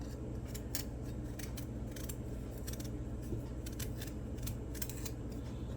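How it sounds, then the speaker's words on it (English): A kitchen knife scrapes the skin off a carrot while cow foot soup is prepared, making a steady series of short, dry rasping strokes in a quick, uneven rhythm, close and moderately loud over a low background hum. "And I like to scrape my carrot."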